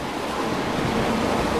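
Steady rush of water filling a tank at a community drinking-water source, a continuous broadband wash close to the microphone with no breaks and no voices.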